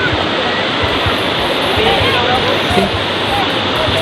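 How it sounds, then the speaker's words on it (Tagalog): River water of the Labi rushes under a bridge in Bongabon, Nueva Ecija, a loud, continuous roar of flowing current close by, with a voice speaking briefly over it. "Agos pala ng tubig, ayan, oh."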